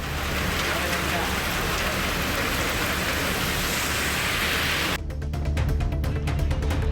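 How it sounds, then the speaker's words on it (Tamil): Heavy summer rain falling with thunder, a dense, steady wash of downpour that fills the whole clip and shifts to a patter of separate heavy drops near the end. "சுமார் அரை மணி நேரத்திற்கு மேலாக கோடை மழை இடியுடன் பெய்ததால் வெப்பம் தணிந்து குளிர்ச்சியான சூழல் நிலவியது"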